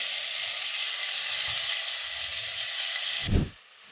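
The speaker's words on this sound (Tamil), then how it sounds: "green capsicum, red capsicum, yellow capsicum வதக்கி விட்டுறலாம்." Cauliflower, beans and green, red and yellow capsicum sauté in butter inside a pressure cooker, giving a steady close sizzle with soft stirring bumps, ending in a louder clatter as the hiss drops away.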